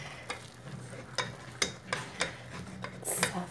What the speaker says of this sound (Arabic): غادي نبدا نزيد داك الطحين بالتدريج وانا كنحرك نحرك دغيا باش ما يلتصقش